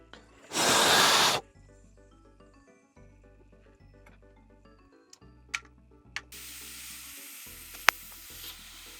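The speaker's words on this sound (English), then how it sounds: "You hear something sizzling? What the heck is sizzling?" Crackling and a faint sizzle rise from a liquid-damaged Sega Genesis circuit board on the bench. A loud hissing burst comes first, then a low steady hum broken by a few sharp pops and clicks.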